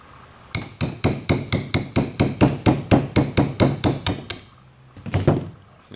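Hammer taps repeatedly on a stuck steering assist part from a 1964 Ford Galaxie, soaked in carb cleaner, giving about fifteen sharp, evenly spaced metallic knocks, a short pause, then one more hit, close and clear with no talking.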